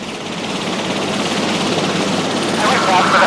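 A Coast Guard rescue helicopter scrambled for a medical evacuation from a tanker drones steadily at close range, its rotor and engine noise filling the clip and growing slightly louder toward the end, with talk present underneath.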